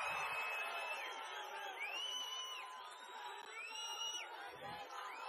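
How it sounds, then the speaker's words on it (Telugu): Large outdoor crowd at a political rally in Andhra Pradesh roaring and cheering in a continuous wash of voices, with rising whistles cutting through repeatedly over the sustained din. "సిద్ధమైతే గట్టిగా చప్పట్లు కొట్టి మీ హర్షాన్ని,"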